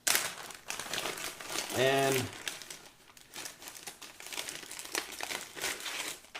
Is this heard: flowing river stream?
no